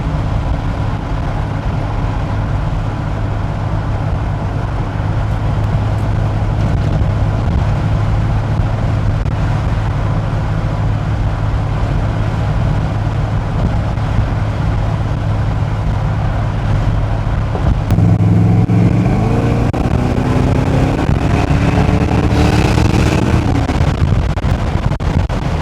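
A 1981 Corvette engine, freshly tuned up, drones steadily and loudly while driving, then its pitch shifts and climbs near the end as the car accelerates.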